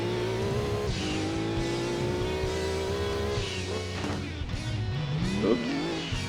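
A Lancia Stratos rally car in Gran Turismo 2 revs steadily through a rally stage, its engine note rising and dipping through gear changes, with brief tire noise near the end, continuous and fairly close.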